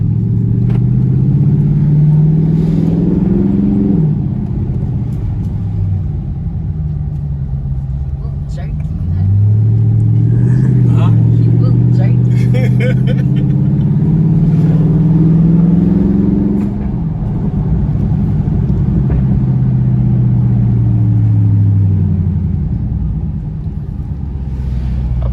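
Widebody Dodge Charger Scat Pack engine rumbling and pulling from inside the car, a loud low drone that rises and falls in pitch through several acceleration runs with no pauses.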